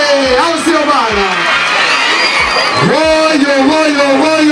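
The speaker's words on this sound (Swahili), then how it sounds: "Mikono juu, piga kelele" A lively crowd at an album launch cheers, whoops and shouts over amplified sound, while a loud voice on the microphone rallies them throughout.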